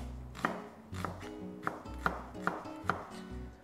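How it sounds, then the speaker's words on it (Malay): Onion chopped on a cutting board, six or seven crisp knife strikes at a steady rhythm, close and quiet with a low hum underneath. "Mari kita potong dulu bawang"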